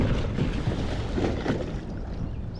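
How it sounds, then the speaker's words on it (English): A Pelican Catch Mode 110 kayak is dropped into the water: a close, loud, rushing splash and churning wash that fades over a couple of seconds, with wind buffeting the microphone. "The best way to put this kayak on the water is by making a splash."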